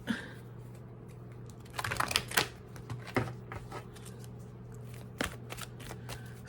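Tarot cards are shuffled by hand during a card reading, with soft repeated riffling and crisp snapping bursts over a low steady hum, close and fairly quiet.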